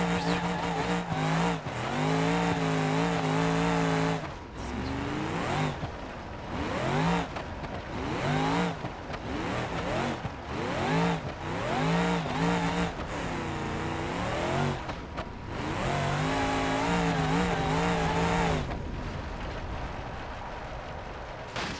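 Loud, continuous supercharged car engine in BeamNG.drive, revving in repeated rising and falling sweeps with blower whine layered over the roar, plus brief tire squeals, sustained through most of the clip.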